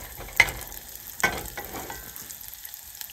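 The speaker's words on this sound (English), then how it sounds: "So we're crisping up the bacon." Bacon crisping in a pan gives a soft, steady sizzle with two sharp spatters, close and fairly quiet, with no talking.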